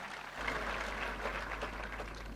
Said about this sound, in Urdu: بھرپور تالیوں میں استقبال کیجیے وزیر داخلہ جناب شیخ رشید احمد